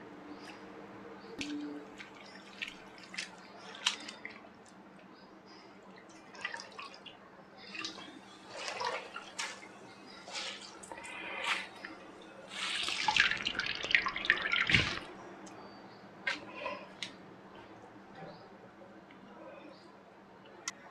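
Grated raw potatoes washed again in a bowl, water splashing and dripping as the shreds are handled, with a louder rush of pouring water near the end, close and fairly quiet.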